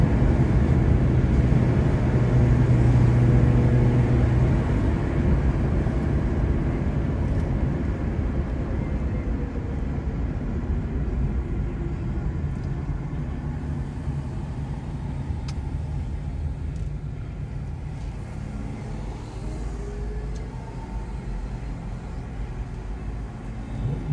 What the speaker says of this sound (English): the traffic is picking up